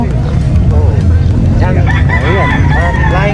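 A Flying White Hat gamefowl rooster crows loudly and close at a busy outdoor animal market, one long drawn-out crow over steady crowd noise and other birds.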